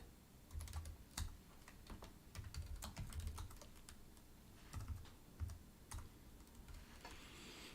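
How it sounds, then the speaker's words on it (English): Fast typing on a computer keyboard during live programming work, irregular bursts of key clicks and clacks, close and fairly faint, with short pauses between runs. "why am I typing git status?"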